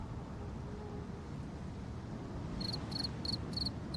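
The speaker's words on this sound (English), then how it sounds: "Crickets.sfx. Do I have a cricket sound in here?" A brief burst of cricket chirps from a sound effect comes in near the end as four or five quick pulsing trills over a steady background hiss.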